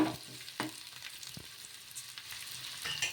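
Chopped curry leaves stirred into onions frying in a pan, with a soft steady sizzle and a few sharp scraping stirs of a spoon, close and fairly quiet with no voices.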